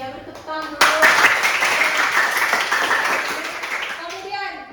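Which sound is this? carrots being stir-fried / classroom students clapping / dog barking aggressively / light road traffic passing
classroom students clapping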